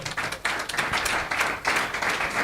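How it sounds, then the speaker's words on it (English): An audience at a research and innovation convening gives partners a round of applause, dense clapping that swells in waves and comes close and fairly loud. "Please, a round of applause to our partners."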